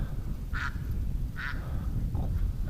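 A duck quacks near a shed, with two clear quacks about a second apart and a fainter third, over a low, rumbling background.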